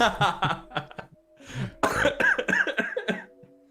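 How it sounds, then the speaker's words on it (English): Several harsh, close coughs in quick bursts with throat clearing, loud and raspy, separated by short breaths. "now I'm coughing like I'm smoking"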